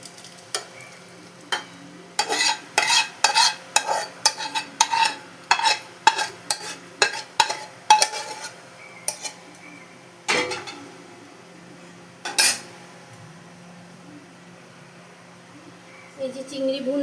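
Chingri bhuna, a spiced prawn dish, is scraped and spooned from a pan onto a plate in a string of sharp metallic scrapes and clinks, some rapid and clustered, with a faint sizzle underneath and a few louder knocks near the end.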